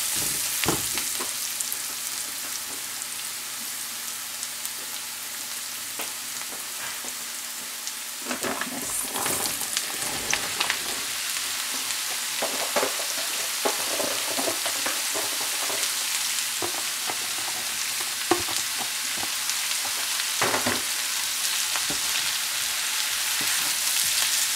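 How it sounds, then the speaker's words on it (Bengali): Zucchini with turmeric fries in a pan for a Bangladeshi bhaji, a continuous loud sizzle broken by repeated scraping and knocking of a spoon stirring the pieces. "এখন আমি জুকিনিটা দিয়ে দেবো, জুকিনি দিয়ে লবণ দেবো আর কি।"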